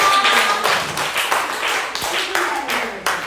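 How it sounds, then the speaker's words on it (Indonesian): A group of people in Nias Barat claps together, producing a run of fairly quick, close hand claps with voices talking over them. "Oke, tepuk tangan semuanya."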